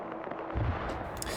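A burst of gunfire pours onto a Humvee in a multiplayer shooter game, a deep thudding impact followed by scattered cracks, heard at moderate distance and somewhat muffled.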